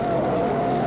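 Engine roar from 1965 NASCAR Grand National stock cars at the Firecracker 400, a steady loud drone as leaders spin and swirl around the track after a blown engine, with race commentary over it.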